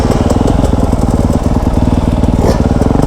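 A Yamaha YZ250F dirt bike engine revs hard while being ridden, a loud, close, rapidly pulsing buzz that rises and falls throughout without a break.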